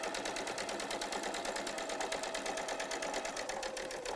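A sewing machine stitches a quarter-inch seam through quilt fabric, running alone as a steady, fast, rhythmic whirr with no pauses throughout.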